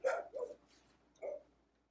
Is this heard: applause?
no